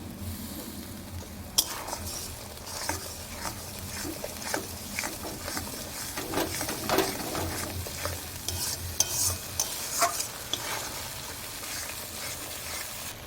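Chopped tomatoes and Kashmiri chili powder fry in oil for a mutton curry, giving a close, steady sizzle broken by repeated scraping and clattering stirs of a spoon against the pan.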